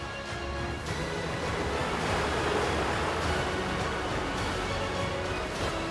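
Wild sea off the Jeju shore churns and breaks continuously where haenyeo divers head out, a dense, steady roar of surf and spray close by, with some wind noise and no speech.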